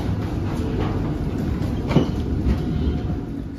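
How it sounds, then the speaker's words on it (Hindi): A Singapore MRT metro train rumbles steadily nearby, with a continuous low roar of wheels on rail and a few faint clicks, and no talking. "देखो ये इनकी मेट्रो है MRT, बिल्कुल अपनी मेट्रो जैसी है"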